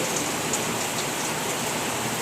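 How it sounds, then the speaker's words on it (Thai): Heavy rain in Bangkok pours down as a steady, dense hiss of drops hitting surfaces, loud and unbroken with no voices. "ถนนมันลื่นตอนนี้ฝนตกแรงมาก"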